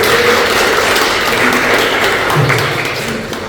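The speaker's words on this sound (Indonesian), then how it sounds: "Boleh tepuk tangan dulu untuk yang keempat." Steady applause from a church fellowship audience at a joint Bible-study worship gathering, clapping continuously for a presenting group, dense and even throughout before easing slightly at the end.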